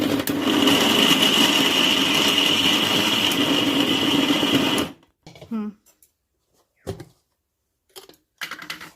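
A kitchen grinder whirs loudly and steadily as it grinds soaked biuli (urad) dal dry without water for making bori, running for about five seconds before cutting off abruptly, followed by a few faint clicks and handling noises.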